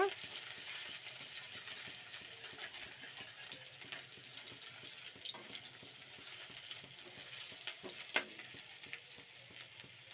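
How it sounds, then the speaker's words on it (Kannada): Garlic chili paste sizzles and fries steadily in a pan while mushroom chilli is being made, a soft continuous hiss close by with faint scraping; there is no talking. "ಬೆಳ್ಳುಳ್ಳಿ ಸಿಂಟಿ ಪೇಸ್ಟ್ ಹಾಕೊಳ್ಳಿ ಬೆಳ್ಳುಳ್ಳಿ ಸಿಂಟಿ ಪೇಸ್ಟ್ ಸ್ವಲ್ಪ ಕಲರ್ ಚೇಂಜ್ ಆಗಬೇಕು"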